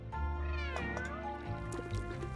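A cat meows in the Homescapes mobile game, a clear, fairly close drawn-out meow with a plaintive, wavering tone, heard on its own without talk.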